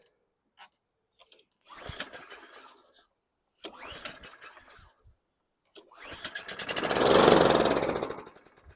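A lawn mower engine that would not run is cranked repeatedly after carburetor spray: several short pull-start bursts sputter briefly with pauses between them, then the engine catches and runs loud for a couple of seconds before dying away.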